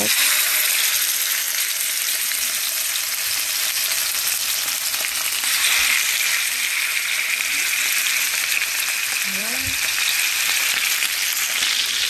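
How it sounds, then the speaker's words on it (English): Continuous crackling sizzle of chicken frying in hot oil, steady and close, with a faint clink partway through and no talking. "first I'm going to start frying this chicken on both sides"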